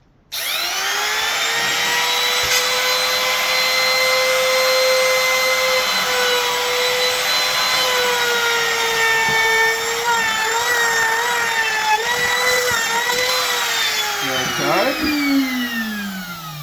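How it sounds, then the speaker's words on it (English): A router fitted with a chamfer bit runs steadily along the edges of a wooden end grain cutting board, a loud sustained whine with shifting pitch as it bites, winding down near the end. "now I'm just going to run along these edges with a chamfer bit"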